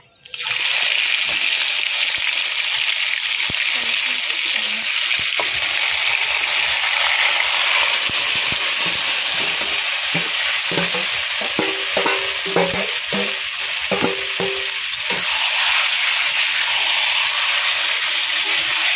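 Chicken pieces for chicken kosha tossed into oil with fried whole garam masala give a loud, continuous hiss and crackle, with stirring and spatter running the whole time, close up and with no voices.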